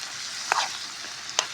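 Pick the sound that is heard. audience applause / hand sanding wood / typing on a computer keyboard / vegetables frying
vegetables frying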